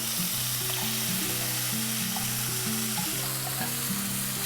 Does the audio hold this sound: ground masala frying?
yes